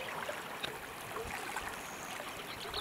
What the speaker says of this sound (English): The water is so muddy right now that I can literally hear it sloshing